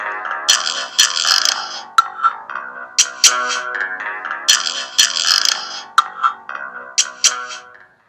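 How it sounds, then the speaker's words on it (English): Swelling synthesized tones that build up and cut off abruptly with sharp clicks, a reverse reverb effect repeating in a choppy rhythm. "Reverse reverb."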